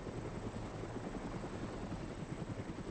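Helicopter in the video game Arma: Cold War Assault, a steady, loud rotor thump with rapid chopping pulses and a thin high whine running continuously throughout.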